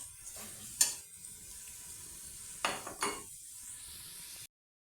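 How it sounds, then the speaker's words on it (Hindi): Spices sizzle and fry in a pan for a ridge gourd and potato curry, a steady soft hiss with a few clinks and scrapes of a stirring spoon against the pan, close and fairly quiet, no talking. "ये सारे मसाले डाल के इसको मैं थोड़ा सा 2 मिनट के लिए फ्राई करूँगी"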